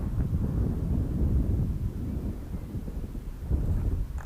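Steady low wind rumble buffeting the microphone outdoors during an RC plane landing, continuous and fairly loud with no voices.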